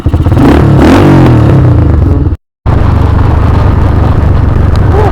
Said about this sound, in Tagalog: Nagbago yung tunog ng motor ko